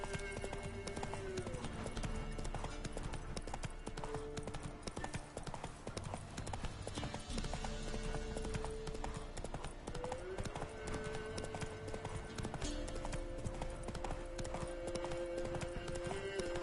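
Roach, a horse in The Witcher 3, clip-clops steadily with a continuous hoof rhythm amid busy game music and ambience, with a faint whinny and occasional speech-like sounds.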